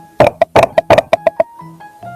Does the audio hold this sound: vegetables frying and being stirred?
no